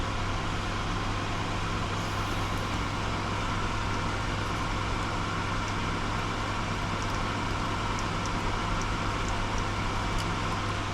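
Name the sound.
solder fume extractor running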